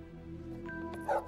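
A dog gives a short bark or yelp near the end, over a steady low hum in the background.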